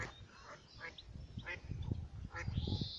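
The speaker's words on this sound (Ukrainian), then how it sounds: "Дикі качки" Wild ducks quack in short nasal calls on a river, several scattered bursts over low rumbling background noise, moderately near but fairly quiet.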